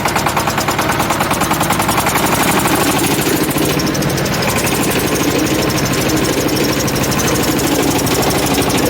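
A loud, steady Shifeng SF 160 tractor engine chugs with a rapid knocking rhythm throughout while plowing a field, close by and unbroken, at a constant speed.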